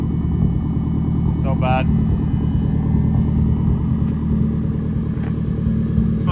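A BMW E36 with a K24 engine swap, big turbo and repaired exhaust idles with a steady, continuous low rumble while a person talks over it.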